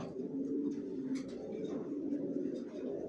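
Racing pigeons kept in a loft coo in a steady low chorus of overlapping murmurs, close and continuous, with occasional faint clicks and a brief voice in the background.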